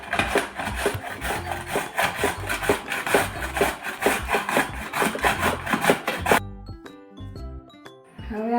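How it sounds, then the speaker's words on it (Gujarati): Beetroot and amla are rubbed against a grater in quick, rhythmic rasping strokes. The scraping stops abruptly and gives way to a few light tinkling tones. "બીટ છીણી નાખીશું"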